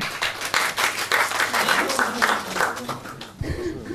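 An audience claps for a performer walking onto the stage at a live show, a thick steady wash of applause with a brief chuckle near the end and voices underneath.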